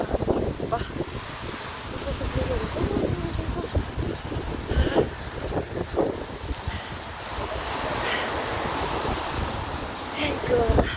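Strong, cold wind gusts by the sea in Quebec, roaring and buffeting the microphone over a rumbling wash of waves.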